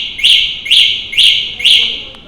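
Four sharp, high electronic chirps from an Etryst 350 electric bike's remote alarm repeat in an even rhythm, loud and close, each a quick rising beep.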